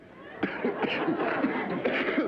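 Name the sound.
coughing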